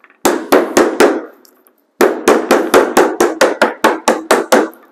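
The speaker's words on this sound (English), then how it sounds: "take the back end of the screwdriver, and hammer down around the sides" A screwdriver handle hammers a metal stain can lid shut, giving sharp ringing metallic knocks: three quick strikes, a short pause, then a run of about ten more evenly paced hits, loud and close.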